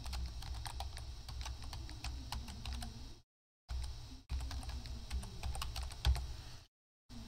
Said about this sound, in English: Let me type it in so that you can see.